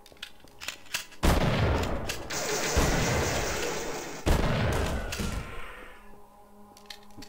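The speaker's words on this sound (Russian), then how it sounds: "Дробовик прям спасает вот этот вот двойной его выстрел." Loud shotgun gunfire in Half-Life: Source: heavy double-barrel blasts in quick succession, each followed by a booming rumble, with sharp clicks between shots.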